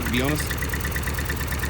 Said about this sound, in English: it's a fairly happy little engine when it's ticking over